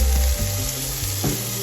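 Onions fry in butter in a pan over medium heat for a bok choy and mince stir-fry, giving a steady close sizzle with a few soft stirring knocks and no talk.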